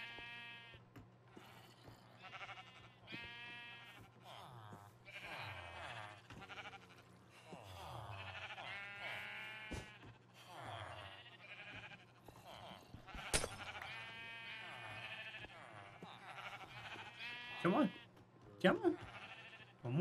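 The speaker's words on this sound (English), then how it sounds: "You're a big sheep boy." Repeated Minecraft sheep bleats, harmonic and wavering, sound over a low steady hum, with a voice talking intermittently throughout.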